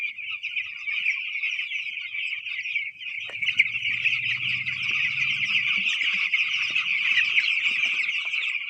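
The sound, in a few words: chickens clucking in poultry shed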